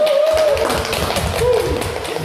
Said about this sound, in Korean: 박수로 네. 초청하겠습니다.